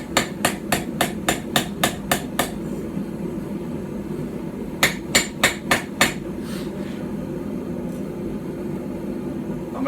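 A hand-forged hammer strikes hot iron on a stump anvil, nine quick even blows in a steady run, then a pause and a second burst of about five, ringing close and loud over low background hum.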